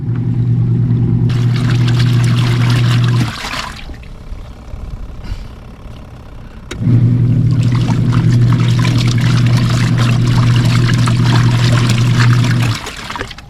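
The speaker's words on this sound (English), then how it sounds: "it agitates one direction and then it stops and agitates the other" A portable RV washing machine agitates its water in two loud sloshing, churning runs with a low motor hum, separated by a quieter pause of a few seconds as the drum stops before reversing direction.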